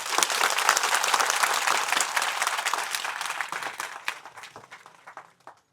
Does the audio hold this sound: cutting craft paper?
no